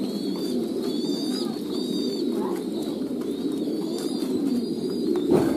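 French pigeons coo in a breeding enclosure, with several birds giving low, repeated throaty coos over a constant rumbling background, fairly loud and close, with no talk.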